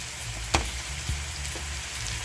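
Corned beef hisses and sizzles steadily in a hot pot for Jamaican bully beef and rice, with a couple of soft thuds as pieces land in the pan.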